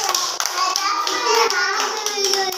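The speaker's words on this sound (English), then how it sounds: "Clap for yourself" A class of children clapping for themselves, a dense patter of small hands sustained throughout, with young voices chattering underneath.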